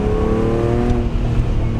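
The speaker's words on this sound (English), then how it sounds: "I'll build the revs up to about" A BMW Z4 in sport mode revs its engine up to around 3,500–4,000 rpm, a loud, steady close-range drone with rising harmonic tones, no talking over it.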